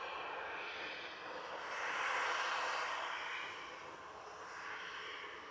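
Corendon airliner engines at Manchester Airport, a broad steady roar that swells in the middle and eases off, heard alone without voices.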